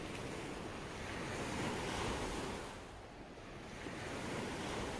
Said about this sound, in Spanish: Dejo que el sonido del mar limpie mis pensamientos.